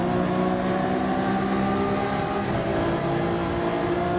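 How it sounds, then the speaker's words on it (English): A race car in Gran Turismo 7 at the Gilles-Villeneuve circuit, its engine a loud, continuous droning roar that holds a steady pitch with only slight variation, heard alone with no talk. "Love the sound of this car"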